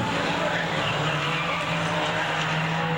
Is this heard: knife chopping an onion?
no